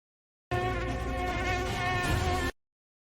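A mosquito whines steadily for about two seconds, a thin, close, continuous buzz that starts and stops abruptly.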